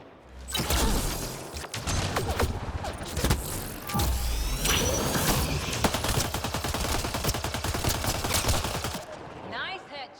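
Mass Effect: Andromeda combat gunfire, dense rapid shots and mechanical clatter running almost continuously at close range, with occasional brief voices mixed in.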